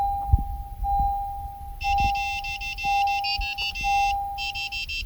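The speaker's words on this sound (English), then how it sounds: "hear the beeping sound indicating programming is successful" Repeated electronic beeps from a 2016-2018 Honda Pilot after key fob programming, a string of clustered high chirps in bursts with a steady tone running underneath.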